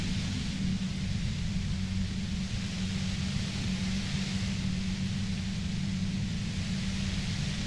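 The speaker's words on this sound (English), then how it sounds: "You hear through the white noise. It's especially bad suddenly." Steady white noise static from the Disco Elysium video game, a dense, unbroken hiss with a low hum underneath that holds at an even loudness throughout, with no voices over it.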